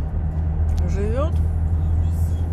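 Cars rushing past on a road near Warsaw, heading toward Terespol, heard as a steady low traffic rumble with a whooshing pass in the middle and a nearby voice talking over it.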